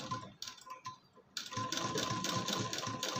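A sewing machine stitches piping onto fabric, starting with short hesitant bursts of quiet clicking and then running steadily in a fast, even mechanical rhythm, close and fairly faint.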